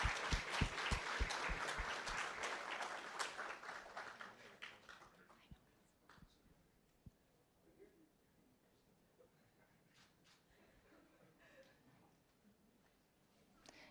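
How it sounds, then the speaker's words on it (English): Applause from an audience at an economics graduate commencement greets a graduate as their name is called, a fairly loud burst of clapping in the first few seconds that fades away to scattered claps and a quiet room. "Round of applause."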